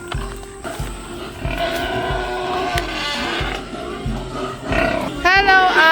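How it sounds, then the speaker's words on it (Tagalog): Loud squealing and crying of pigs over a noisy pen, with thumping sounds throughout and high-pitched squeals rising near the end. "naririnig ko na po yung mga baboy, nag-iiyakan na po"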